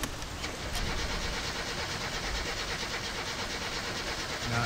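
A car engine in My Summer Car cranking and trying to start after a camshaft realignment, a continuous loud churning rumble that holds steady without catching cleanly.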